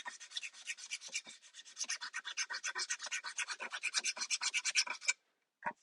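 A spalted tamarind wooden bowl being sanded, a close, steady series of rhythmic raspy strokes that speed up into fast regular scrubbing for about five seconds, then stop abruptly with one last short stroke, no talking.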